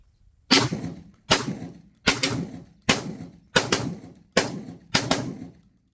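Seven loud, evenly spaced blasts from a Tokarev TT12 shotgun at an outdoor range, each sharp report trailing off quickly before the next, with no talking.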